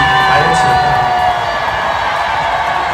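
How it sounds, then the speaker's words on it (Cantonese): Concert audience at a show at Pechanga Resort Casino cheering, whooping and applauding, a loud, dense crowd roar that holds steady throughout. "希望你哋啲掌聲同呼聲唔好停"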